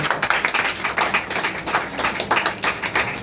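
People clap their hands in praise during a Christian worship gathering. Quick, uneven rhythmic claps sound close and fairly loud, keeping up a steady patter throughout without talking.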